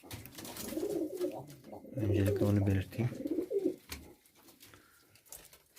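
Pigeons coo in a low, rolling murmur during night-time care of the flock, while someone talks steadily over them at close range.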